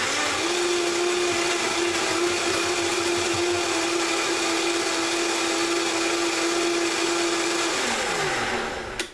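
A blender whirs loudly and continuously as it purees a kale green smoothie, holding a steady high-pitched motor drone before winding down abruptly at the end.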